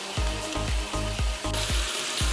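Thinly sliced steak fries in a hot pan with a steady loud sizzle, punctuated by a regular series of dull knocks as it is stirred or turned, close and with no voices.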